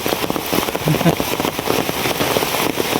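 Heavy rain lashes the fields in a loud, continuous crackling hiss with a patter that pulses slightly, and a voice faintly underneath.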